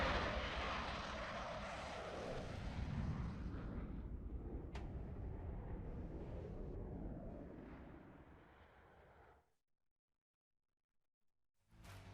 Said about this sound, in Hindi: हम आपको दिखाएंगे अपने इस एआई वीडियो के जरिए कि कैसे ये रफाल विमान में उड़ान भरते हैं